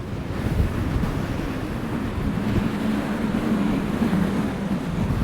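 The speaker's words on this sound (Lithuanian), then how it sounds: "Čia į krantą duodasi banga, o vėjas toks stiprus, kad taško vandenį tiesiog." Strong Atlantic wind drives waves that crash against a stone pier, making a continuous, loud roar of surf and spray. Heavy wind buffets the microphone throughout, and no one speaks.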